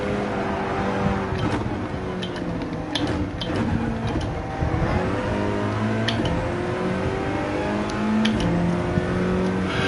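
A Genesis G70 race car running downhill at Mount Panorama, its engine droning loud and steady throughout, with the pitch rising and falling as it shifts and accelerates, no voices.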